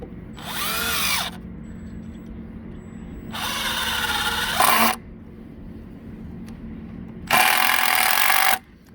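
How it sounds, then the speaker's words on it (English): A cordless screw gun drives screws into a wooden outdrive stand for a boat in three sharp bursts, each a high whirring spin lasting about a second, with quiet pauses between. "Screw gun."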